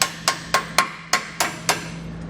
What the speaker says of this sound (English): you may need to just take a hammer and just kind of tap it in